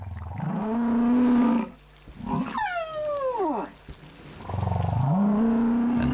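Large whales calling underwater near Rurutu, long low moaning tones that swell and fall, with a rising then sweeping call in the middle, loud and close with no talk.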